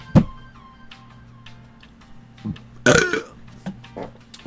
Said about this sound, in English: I think I got another burp coming